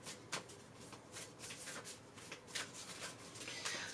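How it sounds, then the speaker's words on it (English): Tarot cards being shuffled by hand, soft papery riffles and rubs repeating irregularly, close and quiet against a faint background hiss. "As I'm shuffling, I'm looking at these cards"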